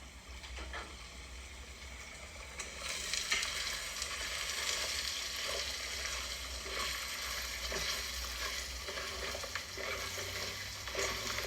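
Onions frying in a pan for a Mughlai pulao, a steady loud sizzle running throughout with occasional stirring scrapes, no voices.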